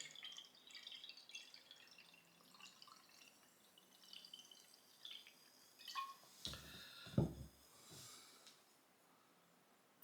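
Chilled Angry Orchard crisp apple hard cider pouring in a soft, faint trickle, with a brief louder glug and splash near the end.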